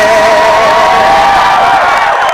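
Large crowd at a political rally in Nizamabad giving a loud, continuous roar of cheering and whooping, close and sustained, with no breaks.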